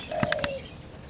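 A bird in an aviary being fed gives a brief cooing call with a few short chirps, close and fairly faint.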